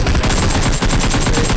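Gunfire in a mobile battle-royale shooter game, dense loud bursts of shots packed close together, steady and continuous with only a brief dip midway.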